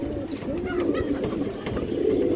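A domestic pigeon offered at a pigeon sale gives soft, throaty coos, close by, in a short rolling series against faint background noise.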